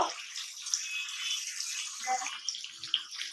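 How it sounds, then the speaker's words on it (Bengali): Cut bottle gourd pieces being poured into a cooking pan, giving a loud continuous sizzling hiss with light clatter, close and without speech. "এখন আমি কাটা লাউগুলো"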